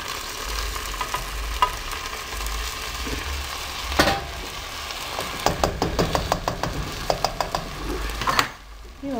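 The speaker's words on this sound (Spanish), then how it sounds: "aquí le vamos a echar lo que licuamos" Blended poblano chile sauce hits a pan of sizzling red rice, a steady frying hiss punctuated by a burst and then a run of knocks and scrapes from stirring close by.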